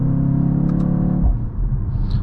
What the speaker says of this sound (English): So all these pops and bangs you're hearing right now, believe it or not,